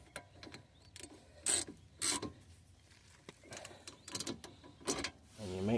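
A ratchet clicks in short bursts while a bolt is tightened on a Ford Mustang, close and fairly quiet, with some rubbing and mechanical rattles between strokes.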